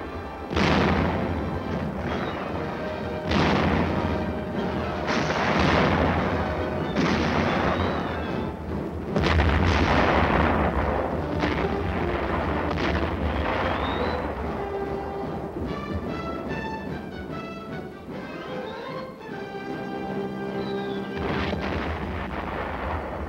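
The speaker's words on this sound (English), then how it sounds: "A tank adds its lethal punch." A tank gun firing in Korean War combat, heavy booming blasts repeating at intervals with long rumbling decays, loud and close, followed by continuing rumble and scattered battle noise without voices.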